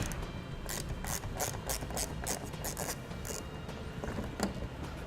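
A ratchet fitted with a T20 Torx bit works a belly pan screw loose under a 2018 Chevrolet Sonic, giving a steady run of quick, close clicks with short pauses.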